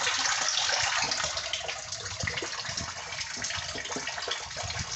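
Water pump running in a backyard pond filter packed with lava rock and pea gravel, giving a steady close rushing and splashing of water without a break.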